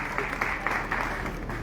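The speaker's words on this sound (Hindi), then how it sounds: "इनके लिए जोरदार ताली हो जाए वेंकटेश और टीम।" An audience at a satsang applauds Venkatesh and his bhajan team, a brief, dense burst of steady clapping from many hands.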